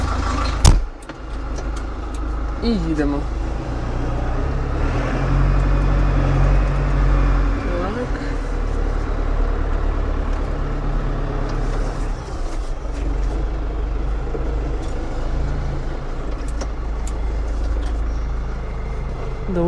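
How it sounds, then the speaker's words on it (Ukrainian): A tractor engine drones steadily at close range throughout while driving on a farm, a continuous low rumble with occasional clunks and rattles, and someone speaks briefly over it. "Заплигуємо у тракторець"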